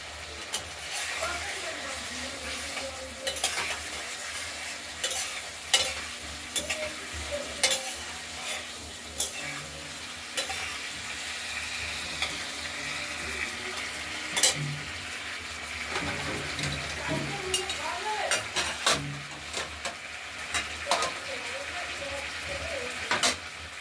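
Spiced masala for a rohu fish curry being stir-fried in oil with a spatula, steady scraping and stirring over a soft sizzle, with clattering strokes recurring throughout.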